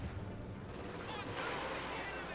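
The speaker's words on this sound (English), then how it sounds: "Katusha barrage flying straight at the MG42" Katyusha rocket barrage in Company of Heroes 2 roars in as a dense, continuous rush of blasts and whooshing fire, loud and sustained throughout with speech faintly mixed in.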